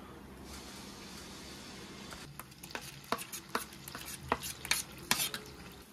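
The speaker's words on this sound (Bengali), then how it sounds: "এবারে কিন্তু এটাকে পুরো কন্টিনিউ আমাদের নাড়তে থাকতে হবে, যাতে তলায় লেগে না যায়" Nigella seeds and a prepared spice mixture cook in hot white oil in a pan, with a low background sizzle and then a run of sharp, irregular scraping strokes as a spatula stirs the mixture.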